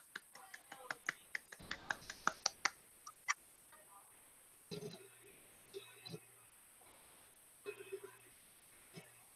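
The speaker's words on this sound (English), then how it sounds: "Golf clap." A few people give soft, quiet golf claps, a sparse patter of light hand claps in the first few seconds, followed by faint low murmuring voices in a quiet room.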